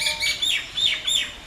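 A sarinda, a string instrument with 10 to 30 strings, plays bird-call imitations as four bright, chirping phrases at a steady pace, close and fairly loud, with no voices.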